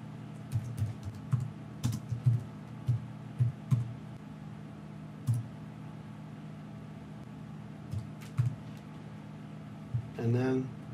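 Someone types on a computer keyboard, producing a scatter of soft, close key clicks in irregular bursts over a steady hum, with a short burst of voice near the end.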